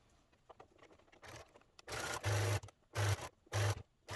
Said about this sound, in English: Now I'm just going to sew my second stitch line